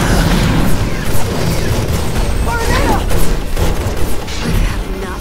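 Gunfire and explosions in Final Fantasy XV's Prompto DLC episode, loud booms and rapid bursts of shots with clanking mechanisms, continuous and close, under a commentator's voice.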